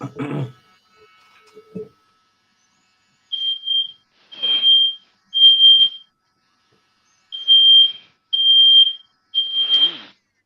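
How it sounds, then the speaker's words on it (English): A smoke alarm chirps in a steady series of loud, high-pitched beeps, with a few brief knocks and noises before the beeping begins. "There's somebody's smoke alarm going off."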